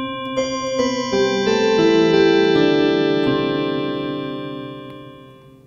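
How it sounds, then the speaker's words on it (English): A holiday synth preset of bell-like tones with added reverb. A quick series of bright struck notes stacks into a shimmering chord that rings on and slowly decays into a washy tail. "The other thing we want to do is add a reverb."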